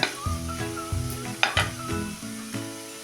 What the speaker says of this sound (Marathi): हे आता थोडं थोडं टाकून आपण हलवून घ्यायचं आहे